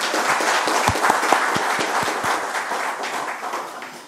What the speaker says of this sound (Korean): 위원 여러분 함께 힘찬 박수 다시 한번 부탁드립니다.